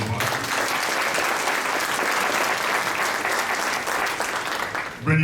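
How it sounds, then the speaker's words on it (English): An audience applauds a junior high school wrestler at a 2022 wrestling team introduction event, a steady wash of clapping that fills the room for about five seconds before ending abruptly. "So I just wanted to introduce Brennan, give him a round of applause."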